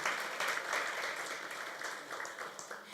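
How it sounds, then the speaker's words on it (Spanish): A church congregation claps continuously, forming a steady wash of applause that holds for the whole stretch without any talking. "Denle un aplauso al Señor."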